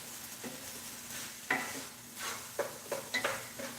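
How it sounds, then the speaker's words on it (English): Browning ground meat sizzles in a pan as taco seasoning is stirred in, with a soft frying hiss beneath intermittent scraping strokes and light utensil clicks against the pan. "So we're going to stir in that taco seasoning in this meat."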